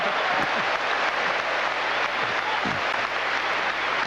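A tennis crowd at a 1993 Volvo tournament match between Agassi and Tarango applauds a long rally, dense sustained clapping that stays steady and loud throughout, with faint voices underneath.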